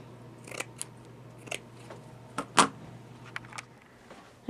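Scissors cut through jeans fabric in several separate, crisp snips spread over a few seconds, close and fairly quiet.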